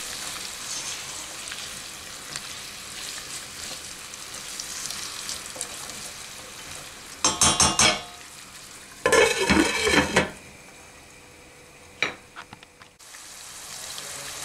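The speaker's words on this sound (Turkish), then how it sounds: "soğanlarımı yeterince kavurduktan sonra üzerine havucumu ilave ediyorum" Onions and carrots sizzle steadily over medium heat in a hot pan, with a few bursts of louder stirring and scraping against the pan partway through.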